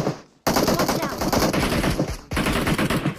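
Rapid automatic gunfire in PUBG Mobile rattles loud and close in two long bursts split by a brief gap, with a voice faintly underneath.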